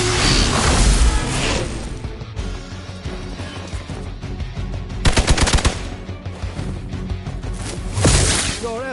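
Bursts of rapid gunfire from the video game Midnight Suns, loud and dense, with heavy volleys near the start, around five seconds and again near the end, mixed with game music and effects.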